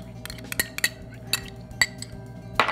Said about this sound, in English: I've already thawed my fruit, and you can see that it gives up this wonderful liquid, which I then just mix into my plain yogurt.